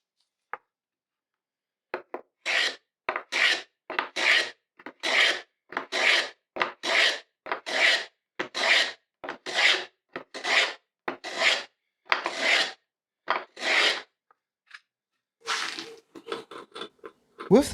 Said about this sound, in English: I'm using a Japanese plane that is specifically made for this purpose.